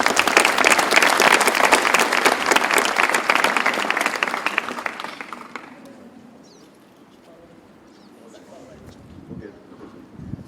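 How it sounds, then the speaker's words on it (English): Outdoor applause at a Stephen Curry basketball camp for coach Mark Collins, a dense burst of clapping from a group that lasts several seconds, then fades to light wind and faint ambient noise. "Clap it up for Mark Collins."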